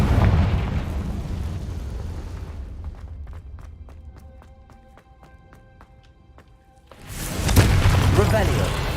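A Confringo spell explodes in a Harry Potter video game, a loud blast with a rushing burst that fades into a quiet stretch of tonal chimes, then a second heavy eruption at the end.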